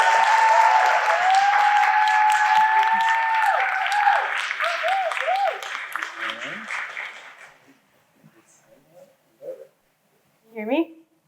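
An audience at a creative industries artist talk breaks into steady, full applause welcoming the speaker, then it tapers off and a few fragments of voice or stray sounds follow in near silence.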